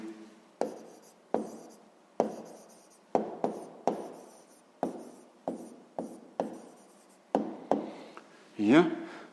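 A pen writes out a math solution on paper in close, quick bursts of scratchy strokes, each starting sharply and fading, repeating in a steady rhythm, then ending with a brief rustle of paper.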